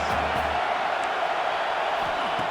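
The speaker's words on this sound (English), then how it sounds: "The crowd is roaring, trying to help this defense on 4th down." Stadium crowd in a college football video game roars steadily on fourth down, a loud, dense, unbroken wash of cheering and shouting with no clear pauses, with a few brief thumps beneath it.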